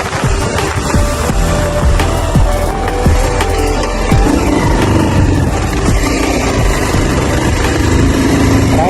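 A motorcycle engine revs and drones continuously while riding off-road over rough ground, with rattles and bumps throughout.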